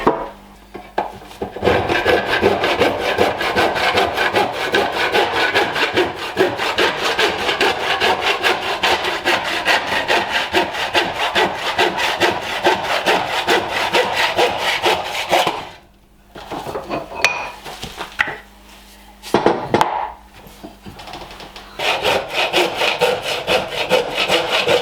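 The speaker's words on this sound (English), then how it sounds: "There was some really nasty cuts with a handsaw" A handsaw cuts through wooden skirting boards in fast, rhythmic rasping strokes, loud and close, running steadily for about fifteen seconds before brief pauses and a few more bursts of sawing.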